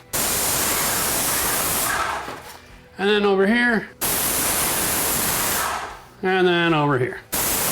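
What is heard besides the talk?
paint sprayer spraying wood panel walls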